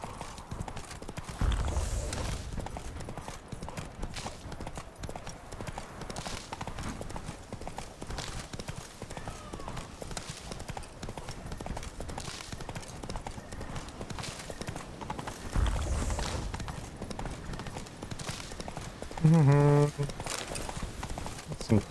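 Hooves of a horse clip-clop steadily along a countryside route for a long stretch, close and rhythmic, with occasional bursts of wind or handling noise and a brief whinny-like sound near the end.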